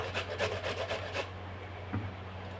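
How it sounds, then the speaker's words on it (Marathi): Raw green mango rasps against a fine kitchen grater in quick, close rubbing strokes that fade after about a second into quieter scraping. "बारीक किसणीने किसायची ही कैरी"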